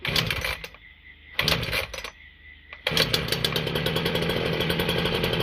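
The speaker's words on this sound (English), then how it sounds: "Chainsaw's on, start running" A chainsaw motor sputters in short bursts, then catches and runs continuously with a loud, steady buzzing roar.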